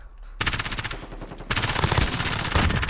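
Rapid automatic gunfire in Call of Duty Modern Warfare Cyber Attack mode, a loud, close stream of shots that starts suddenly, breaks off briefly and resumes, with no talking.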